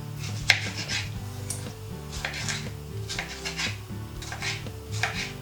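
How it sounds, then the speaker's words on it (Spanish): Quick knife strikes chop tomatoes on a cutting board in an irregular rhythm, close by, over steady background music. "vamos a empezar picando los tomates."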